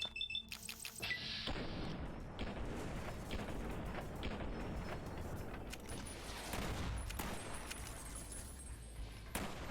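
Sniper gunfire in a video game, a few sharp cracking shots at the start followed by a rumbling wash of booms and debris, moderately faint and close-miked with no talk.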